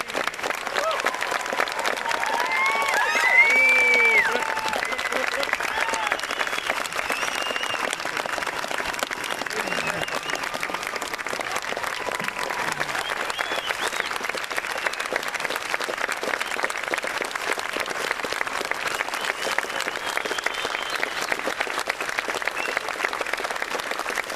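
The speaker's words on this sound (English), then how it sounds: "Give them a round of applause in recognition of their achievements." A large outdoor crowd at a 2013 military academy orientation graduation on a field gives steady, sustained applause for the graduates, with faint voices mixed in.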